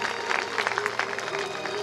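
An audience claps together at a public Vishnu Purana religious discourse, a dense burst of applause lasting under two seconds.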